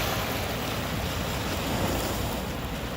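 Waves washing against a rocky shore, a constant broadband rush of surf with wind noise, steady and fairly loud with no voices.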